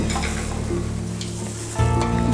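Quail pieces go into a hot wok and sizzle, a crackling fry that jumps louder in the final moments, with no voices.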